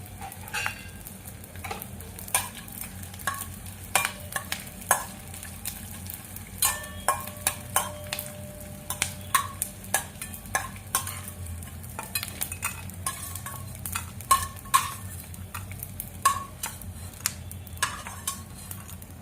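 Edible gum (dink) frying in ghee in a wok, a soft sizzle under frequent sharp scraping and tapping strokes of a spatula against the pan, irregular and close, without speech.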